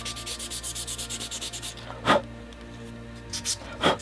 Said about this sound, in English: So I'm just gonna work this all up to about 600 grit.